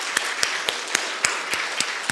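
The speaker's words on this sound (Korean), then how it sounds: "우리 하나님께 영광의 박수를 드리겠습니다" Church congregation clapping at a Thanksgiving Sunday service, a loose scattered applause with separate sharp claps spaced about every quarter second, fairly close, with no voices over it.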